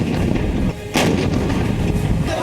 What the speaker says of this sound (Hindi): तोप के गोलों की बरसात,